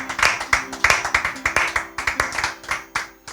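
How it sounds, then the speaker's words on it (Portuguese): A church congregation claps in praise during a service, a fairly small group beating out rhythmic, roughly unison claps at a steady pace, with distinct strokes rising and falling. "Te louvamos com o nosso aplauso, Senhor."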